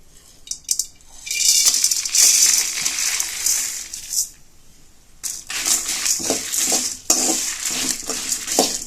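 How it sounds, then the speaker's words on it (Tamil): Spices roasting in oil in a pan for a traditional mutton curry, heard as close, loud bursts of scraping, clattering stirring and rattling against the metal, pausing briefly in between, with no talking. "இது கூடவே நம்ம எடுத்து வச்ச எல்லா பொருளையும் சேர்த்து வறுத்துக்குவோம்."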